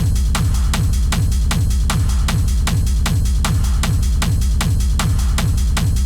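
Hard techno percussion pattern, loud and driving, with tight repeated hits in a fast steady rhythm and punchy low thumps under crisp high transients, with no voices.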